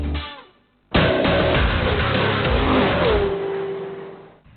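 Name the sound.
BMW X1 facelift car engine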